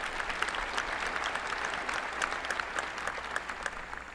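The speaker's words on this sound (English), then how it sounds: "She deserves a round of applause as well." A round of applause from a large crowd at a university winter commencement ceremony, dense and even throughout, heard from a distance and fairly faint.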